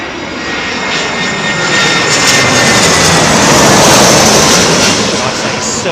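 A loud, steady roar of an airliner landing on runway 27L at London Heathrow, the engine noise swelling close by and holding strong for the whole stretch.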